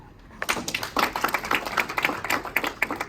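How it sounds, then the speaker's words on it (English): A round of applause from a small group breaks out after a brief quiet start, steady clapping continuing to the end. "round of applause for her"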